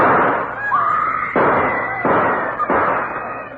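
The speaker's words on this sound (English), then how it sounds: "Gunshots have thrown the courtroom into turmoil." Gunshots in a courtroom ring out as four loud, sharp reports spaced about half a second to a second apart, close and echoing, with a raised voice shouting over the first.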